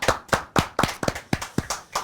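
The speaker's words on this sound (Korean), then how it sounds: "박수 한번 주세요" Hands clapping in a broadcast speech show studio, about nine sharp, close, loud claps at a fairly even brisk pace with no talk over them.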